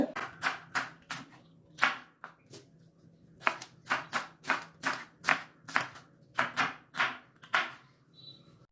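An onion is sliced lengthwise with a knife on a cutting board, crisp knife strikes landing close in quick bursts of three to five chops separated by short pauses, with no talking.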